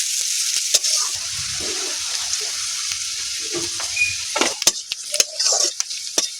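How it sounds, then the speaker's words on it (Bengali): Onions and panch phoron spices fry in hot oil with a steady high sizzle throughout, broken by several sharp utensil clinks and stirring scrapes toward the end. "পেঁয়াজ আর পাঁচ ফোড়ন খুব সুন্দর করে ভেজে নেব।"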